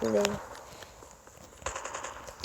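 Rapid automatic gunfire from Call of Duty Mobile comes in short, crackling bursts, one early and a denser cluster later, mixed with brief voice sounds and a sharp final hit.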